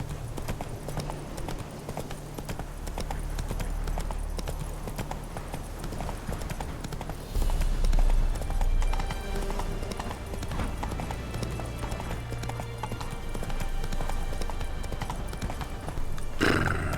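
Roach the horse gallops in The Witcher 3, with a steady, even beat of clip-clopping hooves throughout and a brief whinny amid the game sounds.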